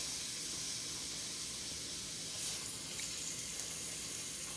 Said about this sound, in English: You really want to take the extra couple moments to sear this steak.